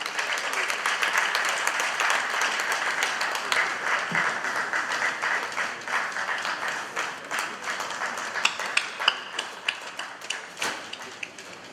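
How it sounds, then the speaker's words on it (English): A crowd applauding at a Delta State 2015 public event, dense steady clapping across the whole stretch with a few sharper individual claps standing out toward the end, fairly close and loud. "Somebody said that clap is not 2015 compliant"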